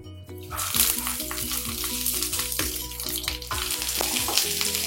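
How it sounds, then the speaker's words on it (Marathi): Fried potato, ivy gourd, cauliflower, eggplant, okra and bitter gourd sizzle loudly on a hot tava griddle, a steady close crackle with occasional stirring scrapes. "तवा गरम झालाय, यामध्ये मी आता ह्या आपण भाज्या तळून घेतलेल्या आहे, बटाटा, तोंडली, फ्लावर, वांगी, भेंडी आणि कारले हे यामध्ये"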